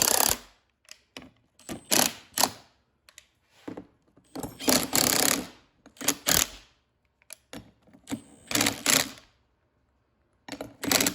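Zinc plated bolts being snugged down on an EZGO golf cart rear seat kit: a series of close, irregular metallic clicks, ratcheting rasps and clunks separated by short silences, no talk.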